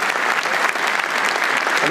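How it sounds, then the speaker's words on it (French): Dense, sustained applause from an audience at a national apprentice evaluation ceremony, loud and continuous throughout without a break. "J'aimerais qu'on les applaudisse une nouvelle fois, s'il vous plaît"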